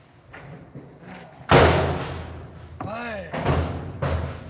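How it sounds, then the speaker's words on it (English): A truck tailgate slams shut with one loud, sharp bang, followed by a lingering rumble, with quieter knocks and someone talking before and after. "Bang! There's your tailgate."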